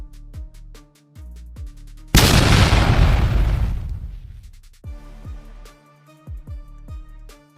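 A burning self-propelled gun, struck by a drone, detonates in a single loud, sustained roaring blast that slowly dies away over about two seconds, set between stretches of tonal background music.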